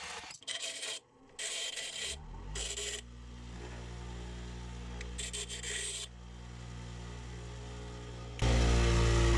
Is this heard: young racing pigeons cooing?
no